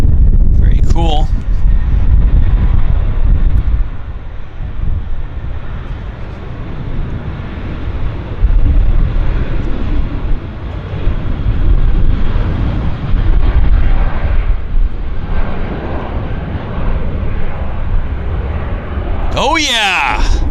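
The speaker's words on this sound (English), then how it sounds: "First ever departure from Vancouver International. Air North's new 737-800." Air North's new Boeing 737-800 on its first departure from Vancouver International, a loud sustained jet roar with wind buffeting the microphone, swelling and dipping slightly through the run, with brief chirps at the start and end.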